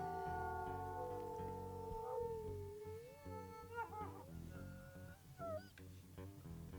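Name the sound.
wolf howling in WolfQuest video game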